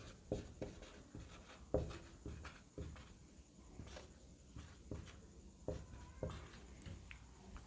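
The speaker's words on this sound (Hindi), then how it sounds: "वहां पे भी लिख देते हैं," Pen strokes writing labels on a hand-drawn neuron diagram, a quiet series of short scratchy taps and scribbles in irregular rhythm, close and alone.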